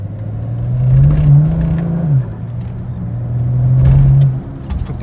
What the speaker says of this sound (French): je démarre en 2 tranquille